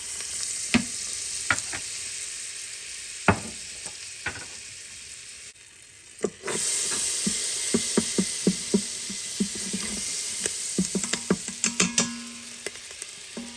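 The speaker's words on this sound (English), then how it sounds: "The next thing we're going to do is saute our mushrooms." Mushrooms sautéing in butter in a pan, a steady bright sizzle throughout with scattered clicks and scrapes of stirring, briefly dipping before picking up louder again.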